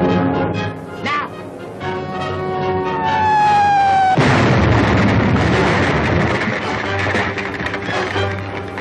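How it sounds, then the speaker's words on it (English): A loud wartime battlefield explosion erupts midway, a broad sustained roar that swamps everything after a stretch of sirens or whistling tones and clamor, staying loud to the end. "Explosion got most of them."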